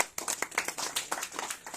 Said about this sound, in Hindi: उनके सम्मान में एक बार जोरदार तालियां